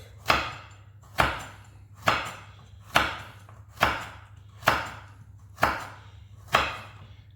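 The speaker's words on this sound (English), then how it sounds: "So the carrot I'm just going to cut into circle slices." A knife chops a carrot into round slices on a board, eight evenly spaced sharp, close chops about a second apart over a low steady hum, with no talk.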